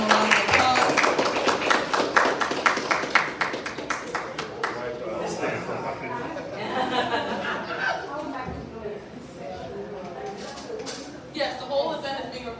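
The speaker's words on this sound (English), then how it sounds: "everyone can give them a round of applause" An audience at a summit applauds panelists as they are welcomed up, with dense clapping at first that thins out and fades into murmuring chatter and light laughter.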